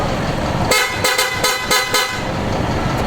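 PIAA horns fitted to an Isuzu Elf truck blast in four loud, bright honks, each short and sharp with brief gaps, close and clear over a steady background hum.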